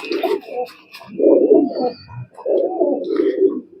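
A large pigeon held in the hand coos up close in loud, throaty bursts, three rolling phrases in a row with short pauses between them.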